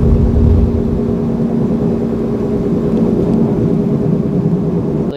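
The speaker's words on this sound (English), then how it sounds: "what I've done, I made it sound like a GTR. Don't recommend doing this, but this is how that sounds like." A Tesla Model Y's external speaker plays a Nissan GT-R engine sound, a loud, steady low droning roar that holds for several seconds before cutting off abruptly.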